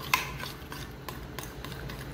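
Hydrated corn flour for couscous being stirred in a bowl, a soft scraping, rubbing sound with one sharp clink near the start, close and quiet with no talking.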